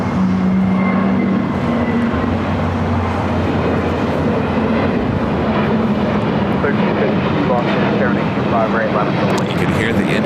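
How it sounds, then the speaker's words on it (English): Boeing 777-300ER jet engine spooling up at LAX, a loud steady roar with a low drone and rising hum, mixed with airport radio chatter throughout. "You can hear the engine start up on the 777 to 300 ER."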